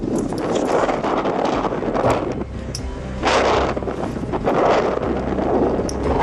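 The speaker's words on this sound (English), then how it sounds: "Coming out into the wind." Wind blowing in Yosemite Valley near El Capitan, loud gusty buffeting across the microphone that swells and surges in waves without any voices.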